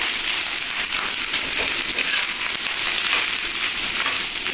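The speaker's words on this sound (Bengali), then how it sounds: "ভাতটা একটু ঘিয়ের সঙ্গে দিয়ে নিচ্ছি" Cooked rice frying in ghee on a flat iron griddle for a homemade chicken biryani, giving a steady, loud, dense crackling sizzle that runs unbroken throughout.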